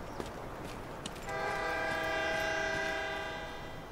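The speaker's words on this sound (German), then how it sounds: "Zug." Passing train in the video game Delta Force, a sustained multi-tone horn starting partway through and holding steadily over distant rumbling, mid-distance and fairly faint.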